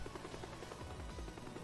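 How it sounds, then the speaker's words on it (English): A helicopter in the Teardown video game descends quickly, its rotor producing a dense, continuous rhythmic chop throughout the brief moment. "I like that where the helicopter just kind of flew down quickly."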